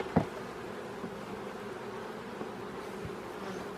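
Honeybees hum at an opened hive as frames are lifted during end-of-season hive inspection, a continuous close buzzing drone with a soft knock at the start.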